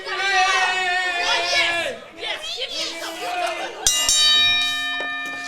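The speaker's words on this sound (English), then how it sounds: "That's the bell again." A ringside bell at a live wrestling show clangs once sharply and keeps ringing with a sustained metallic tone, following crowd chatter and a voice over the event noise.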